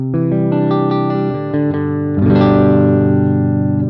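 Electric guitar played through a boutique amp model in AmpliTube 5 with the echo turned off: loud, dry, overdriven sustained chords, then a brighter strummed chord ringing out for the last seconds.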